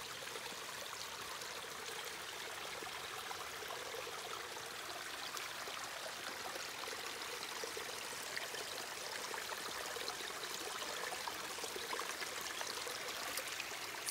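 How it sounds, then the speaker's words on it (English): Cold water from a mountain stream or spring runs into a flexible water pouch for a squeeze filter, a steady close trickle and gurgle that continues softly and evenly throughout. "And then I can just fill it up from any spring or stream"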